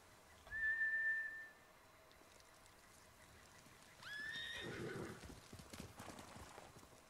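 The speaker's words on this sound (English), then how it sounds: "Bastards scared off the horses. They're samurai mounts," Samurai horses in Ghost of Tsushima give a clear whinny and then another neigh with hoof clip-clop, faint and set against quiet ambience.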